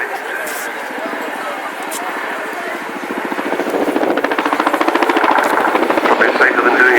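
Chinook twin-rotor helicopter performing a display routine at the Cosford Airshow, steep climbs and pivots, its heavy rhythmic blade slap thudding steadily and growing louder and faster as it nears, with a commentator talking over the top.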